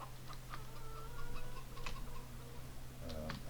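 Chickens in Farming Simulator 22 cluck intermittently in short, soft bursts over a low steady farm hum, several birds close by with a few louder calls scattered across the moment, no talking.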